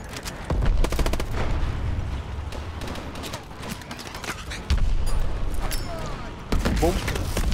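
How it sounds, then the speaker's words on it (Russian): Gunfire from drones and enemies in the shooter game Call of Duty: Advanced Warfare, rapid bursts and single booming shots in clusters over a constant rumble of in-game noise. "а вот эти стреляют по нам"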